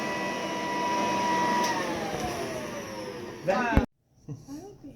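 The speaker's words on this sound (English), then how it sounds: "Vacuum." A vacuum cleaner runs with a steady whirring drone that slowly falls in pitch, then cuts off abruptly after a clunk, leaving a quiet room with faint voices and small noises.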